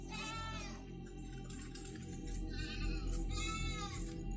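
A goat bleats twice, long wavering cries a couple of seconds apart, heard close over a low rumbling background hum with no speech.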